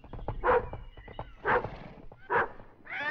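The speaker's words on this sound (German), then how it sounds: "Pfui, du böser Hund, wirst du wohl nicht so bellen." A dog barks three times at a steady pace, fairly close, with quieter rustling and shuffling in between.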